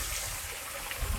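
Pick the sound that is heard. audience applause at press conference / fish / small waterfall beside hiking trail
small waterfall beside hiking trail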